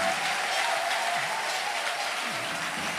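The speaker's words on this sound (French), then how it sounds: "Maintenant, tu peux acclamer fortement dans ses oreilles." A church congregation at a service with Pastor Walesa cheers and applauds loudly, a dense, steady roar of clapping and voices lasting the whole stretch without a break.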